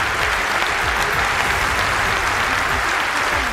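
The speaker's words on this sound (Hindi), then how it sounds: "पूरा सदन तालियों की गड़गड़ाहट से गूंज उठा" A packed chamber of the French parliament breaks into thunderous applause as a bill passes, dense continuous clapping that stays loud and even throughout.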